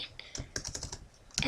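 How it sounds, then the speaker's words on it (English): Quick, uneven clicks of fingers typing on a computer keyboard, a short burst of close keystrokes with slight pauses between them. "I'll just type it"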